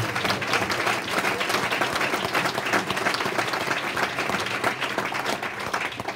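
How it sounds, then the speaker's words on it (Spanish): A church congregation at a leaders' conference claps hands as an offering of praise, a dense, steady wash of applause filling the room from start to finish without a break. "Dale una ofrenda de palmas al Señor."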